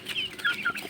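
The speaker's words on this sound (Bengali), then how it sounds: "এগুলি হচ্ছে আমাদের মুরগি" Chickens clucking on a small poultry farm where ducks are also kept: a quick burst of several close, high clucks and short calls in under a second, with no talking.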